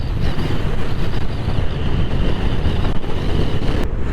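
Vespa GTS 500 scooter with a 500 cc engine of about 39 horsepower accelerating hard to 100 km/h, a steady loud engine drone blended with heavy wind roar throughout.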